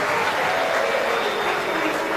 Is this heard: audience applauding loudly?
yes